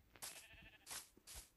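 Sheep bleating in Minecraft, three short wavering bleats spaced about half a second apart, clear and alone with no talk.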